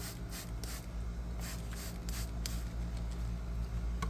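Short hissing sprays of cleaning solution inside a car interior being detailed come in several quick bursts over a steady low background hum, with no voices.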